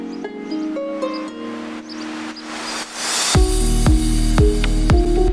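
A reversed white noise sweep in a deep house remake swells steadily in level before cutting into a piano drop with a thumping kick and bass, loud and continuous with no voice.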